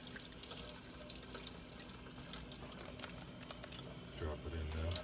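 Meat is rinsed under a running kitchen tap, giving a faint, steady splash of water that grows louder and fuller near the end as the flow hits the meat, with brief talking.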